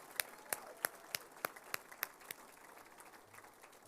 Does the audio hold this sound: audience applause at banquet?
yes